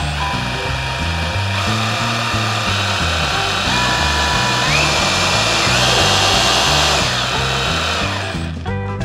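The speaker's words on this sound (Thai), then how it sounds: "ถ้าเรากดเบานะครับมันก็จะหมุนช้าเห็นไหม" An OSUKA OCRH852 rotary hammer drill runs continuously at low speed, a loud close motor hum with a rhythmic, pulsing drone that cuts off at the end.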